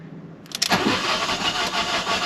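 A Fiat 500 TwinAir with an oil-pressure fault cranks briefly with a few quick clicks and whirs, then catches and settles into a steady, close, rough-sounding idle.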